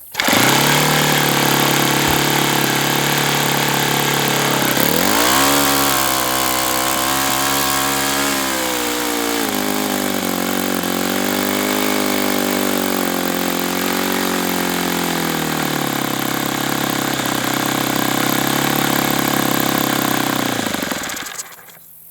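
An RCV 91CD model engine runs continuously, first at a high buzzing pitch, then dropping and settling into a steady idle before cutting off abruptly at the end; loud, close and without talking.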